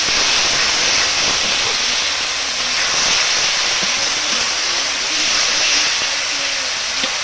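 Onion and tomato puree sizzle loudly and steadily in a pan over a wood-fired stove, a broad continuous hiss heard up close with faint, low background voices underneath.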